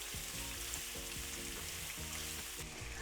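Sausages fry in a pan, giving a steady, dense sizzle that runs unbroken from start to finish with a low, regular hum underneath.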